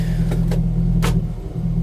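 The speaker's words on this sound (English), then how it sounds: "Sport mode, standing start, Bowler P1 prototype race car." The 575 bhp Bowler P1 prototype Land Rover Defender race car sits in sport mode, its engine a loud, close, steady low rumble broken by a few brief sharp bursts.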